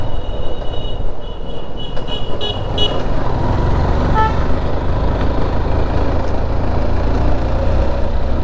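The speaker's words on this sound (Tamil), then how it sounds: "ஹார்ன் அடித்தா நான் என்ன பறந்தாட போக" A vehicle horn toots briefly on a winding hill loop road near Yercaud, heard amid steady loud engine and road rumble, apparently from a moving vehicle on the ride.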